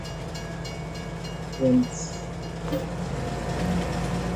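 A train in the Farming Simulator 22 farming game rumbles along in a steady, continuous drone, with a brief spoken word partway through.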